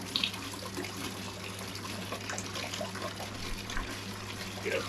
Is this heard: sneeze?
no